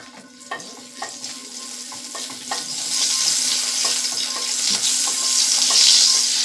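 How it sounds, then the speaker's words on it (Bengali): Parboiled potato pieces frying in oil in a kadai, a steady close sizzle that swells louder over several seconds, with stirring scrapes and clicks scattered throughout. "আমি এই আলুটাকে ভেজে নেব কড়াতে আবার একটু তেল দিয়ে দিলাম"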